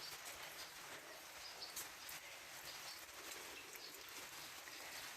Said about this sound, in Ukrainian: з самого раночку росить собі гарний дощик